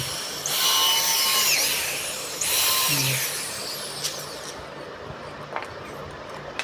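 A power drill drives screws into a small wooden stool, two whirring bursts of about two seconds each that rise in pitch, followed by quieter clicks and taps nearby.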